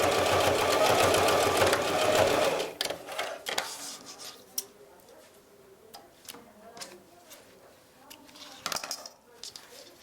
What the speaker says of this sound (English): I sew right along the outer edge. Of my mask